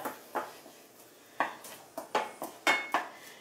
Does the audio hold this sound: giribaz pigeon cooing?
no